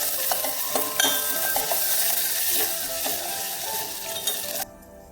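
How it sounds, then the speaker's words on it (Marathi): Green chillies sizzle in hot oil in a pan for a Marathi fasting potato dish, a loud continuous close frying hiss with small scraping clicks from stirring, cutting off abruptly near the end; nobody speaks. "मिरची मिरची छान परतली आहे"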